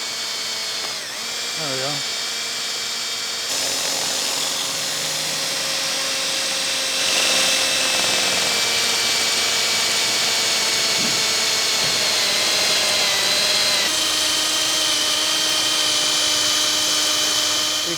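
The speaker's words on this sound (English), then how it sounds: "I'll drill this out. Starting on an angle." Power drill boring out a hole at an angle during piston reassembly, whining steadily and close, shifting pitch as the load changes, with a brief spoken remark partway through.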